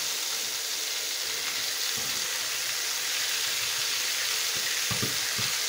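Chicken pieces fry in a paella pan over high heat with a dense, continuous sizzle, and a few soft scrapes and turns of the meat sound close by.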